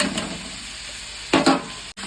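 Spices and tomato frying in a pan for aloo dum, a steady low sizzle with a couple of louder stirring scrapes near the end, close and fairly quiet.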